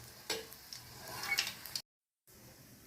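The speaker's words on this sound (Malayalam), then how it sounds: "കൊല്ലമുളക് ഇട്ട് നമുക്ക് നന്നായിട്ട് ഇളക്കാം" Red chillies stirred as they fry in a pan while tempering buttermilk curry: a faint sizzle with scattered scraping ticks from the spoon, then a brief drop to silence before the low frying hiss resumes.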